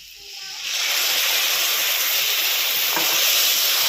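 Mustard paste hits a hot frying pan and breaks into a loud, steady sizzle and crackle that starts abruptly and continues evenly, with no one talking.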